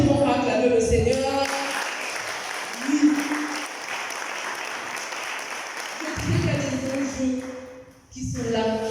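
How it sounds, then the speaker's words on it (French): Applause from a church congregation at a French-language service, sustained clapping under and between a preacher's amplified voice, with speech resuming near the end. "Est-ce que tu peux acclamer le Seigneur?"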